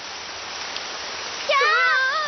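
Cartoon rain sound effect, a steady hiss of falling rain running continuously before a voice speaks over it in the second half.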